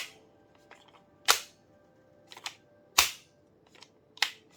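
A Canik pistol magazine pushed into a CZ P-10 compact pistol that it will not stay in: three sharp metallic clacks about 1.7 s apart, each with a few small rattles around it, close and alone in a quiet room.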